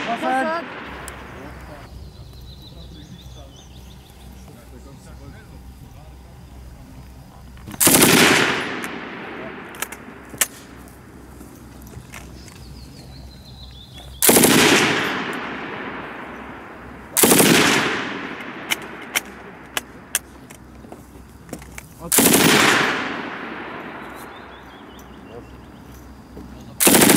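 MG4 and MG5 machine guns fire in four loud bursts at a military range, each a rapid ripping volley with sharp echoing tails, separated by quieter gaps with faint distant noise.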